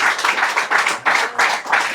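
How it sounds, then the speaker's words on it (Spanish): A church congregation applauds during a Spanish-language sermon, a dense wash of many hands clapping in loose rhythmic surges, loud and close, with no talking. "Dale un fuerte aplauso a ese Rey que te ama"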